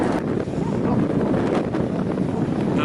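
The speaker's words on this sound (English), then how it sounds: "I don't know if you'll be able to hear me with the wind." Strong wind buffets the microphone on a slight hill in Broken Hill, a steady loud roaring rumble with no break across the whole clip.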